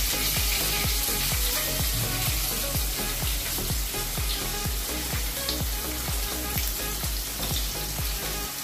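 Chopped onion hits a pan already holding asafoetida, green chili and curry leaves, and a loud, dense sizzle follows, steady and close, with regular stirring strokes under it.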